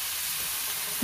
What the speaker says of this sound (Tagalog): simpleng ulam na niluluto ko